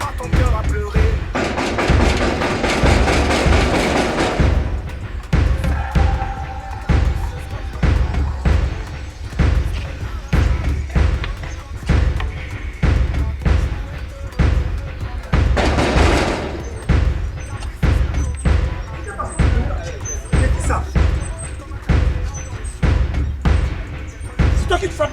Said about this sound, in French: Tu frappes ma porte comme ça.